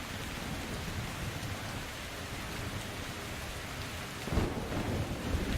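Heavy rain hisses steadily during a thunderstorm in the video game Metro Exodus, with a low rumble of thunder swelling near the end.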